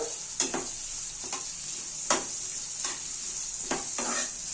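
Chopped onion fries in a pan of oil for a leafy vegetable dish, a steady close hiss broken by sharp spoon-against-pan stirring knocks every second or so, with no talking.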